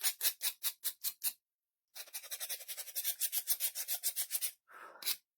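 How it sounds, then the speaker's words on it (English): A sander works over painted wooden scarecrow-with-pitchfork fall decor in a series of close, rhythmic rasping strokes, pausing briefly before a longer run of steady scraping passes. "And we're going to get it sanded up"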